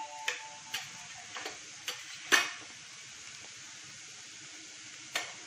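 A low, steady sizzle of golden fried onions in a pan, with spices being added for veg kofta biryani, punctuated by several sharp clicks and taps of a utensil against the pan, fairly quiet with no talk.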